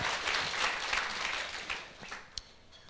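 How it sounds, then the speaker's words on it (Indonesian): A church congregation at a Sunday service claps enthusiastically, then the applause thins out and fades to a few scattered claps. "Kita kasih tepuk tangan dulu buat Allah kita yang luar biasa."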